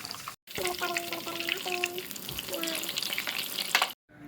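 Flour-coated food frying in hot oil, a dense steady sizzle that fills the whole stretch, with a voice humming or speaking softly over it.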